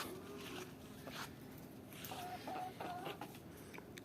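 Hens cluck close by outside a henhouse in a home garden, a scatter of short, soft clucks and a few sharper calls over quiet background noise.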